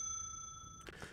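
A telephone rings in the horror video game Umbra with a short, steady, bell-like tone that cuts off abruptly, followed by faint rustling.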